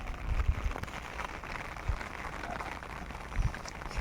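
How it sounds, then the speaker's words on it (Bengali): Soft, steady patter of light rain falling on surfaces, faint and continuous, with a few dull thumps nearby. "বৃষ্টি কিন্তু একদম ঝিরঝির করে হচ্ছে"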